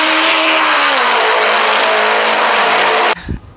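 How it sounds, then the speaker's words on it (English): Race car engine roaring at sustained high revs with a squealing tire tone, loud and close, cutting off abruptly near the end into a brief quieter rumble. "We love the race car sounds."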